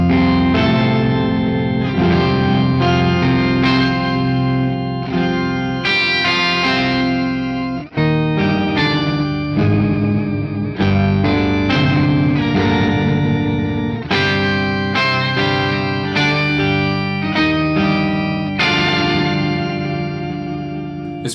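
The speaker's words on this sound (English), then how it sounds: "This pedal basically octaves your guitar up and down in multiple different ways, and basically it makes your guitar kind of sound like an organ." Electric guitar run through an octave pedal modeled on the Electro Harmonix POG, playing thick organ-like chords with layered upper and lower octaves, loud and sustained across the whole passage with a few brief breaks between phrases.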